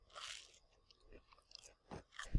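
Crunchy grilled cheese sandwich being chewed up close, a few crisp bites and crunches in brief bursts with quiet gaps between them, no talking.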